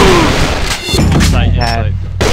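A grenade explodes in the online shooter AVA with a loud, booming blast and rumbling decay, mixed with in-game gunfire and a voice over it.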